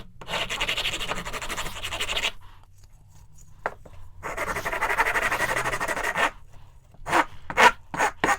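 A hand rasp files the wood of a pallet being shaped into a passive speaker, in steady scraping bursts that stop for a pause, then resume and end with a few short, sharp strokes.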